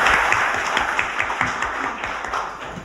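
An audience at a Korean public forum claps steadily in a brief burst, a full, fairly close wash of hand claps with a loose pulsing rhythm and no voices over it.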